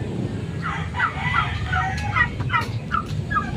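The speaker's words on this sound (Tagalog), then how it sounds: "Mga pabo." Several turkeys gobble repeatedly nearby in quick, warbling bursts over a low background hum.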